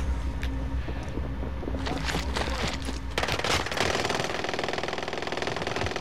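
Rapid machine gun fire from Call of Duty: Modern Warfare rattles in fast, loud repeated bursts, layered over engine-like rumble and other game noise.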